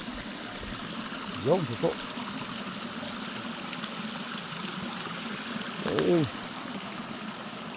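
A small stream trickles and flows in a steady, close wash of water, while someone talks briefly over it.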